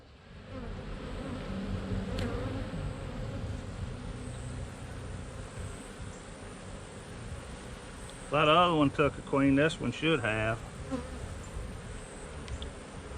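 Restless, runny honeybees drone steadily around an open hive during a queen check, a soft continuous hum under a man's nearby speech.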